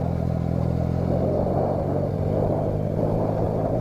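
Vehicle engine rumbling steadily at close range while driving down toward a beach past dunes, a continuous loud drone with slight revving and clatter and no talk.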